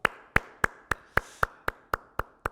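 Rhythmic sharp claps from a church congregation applauding to welcome two new families at a service, about ten evenly spaced hand claps heard close and clear, no talk over them.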